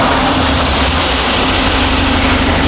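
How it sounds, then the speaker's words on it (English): A 2019 Mercedes-Benz GLC63s with the M177 engine idles with a loud, steady, broadband hum and low rumble, unchanging throughout with no voices. "Okay, I do have the engine idling"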